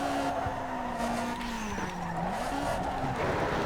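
Race car in Need for Speed Underground 2 skidding, with a sustained tire squeal that bends in pitch over a roaring engine, loud and continuous throughout the short stretch.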